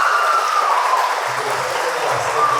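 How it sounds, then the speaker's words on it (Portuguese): An audience applauding at a presentation of results from a film workshop, a dense, steady wash of many hands clapping together, loud and sustained throughout the short stretch. "Mais uma salva de palmas."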